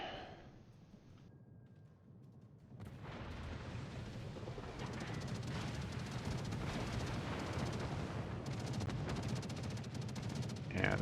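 Warship main guns firing high-explosive shells in World of Warships, a dense rolling barrage of booming gunfire and blasts that swells after a quiet start and continues loudly.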